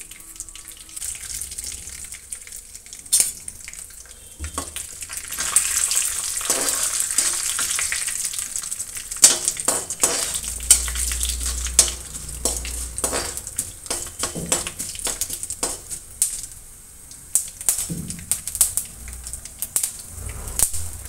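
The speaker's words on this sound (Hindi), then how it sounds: "सरसों चटकने लगा है" Mustard seeds crackle and spatter in hot oil, a busy sizzling pop with occasional utensil clinks against the pan.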